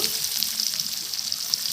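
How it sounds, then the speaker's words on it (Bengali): Steady, close sizzling of chopped onion frying in hot oil with black cumin seeds, a continuous crackling hiss with small pops throughout. "এবার আমি অল্প একটু পেঁয়াজ কুচি দেব"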